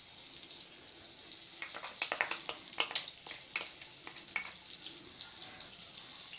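Butter melting in hot oil in a kadai for paneer gravy, a soft steady sizzle with bursts of crackling pops and spatters growing busier in the middle, quiet and close.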